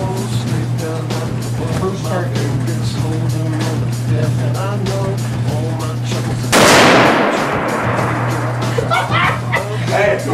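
A single loud, sharp gunshot cracks out midway at Phoenix Gun Range, ringing briefly amid steady background hum and continuous nearby chatter from a group of people.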